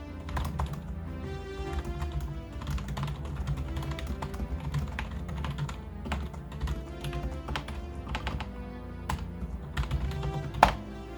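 Fast, steady typing on a cheap Five Below computer keyboard fills the recording with dense, close clacking keystrokes and a slightly hollow plastic thud, and no one speaks.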